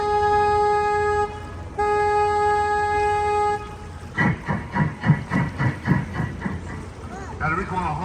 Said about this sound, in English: please excuse me while I honk my horn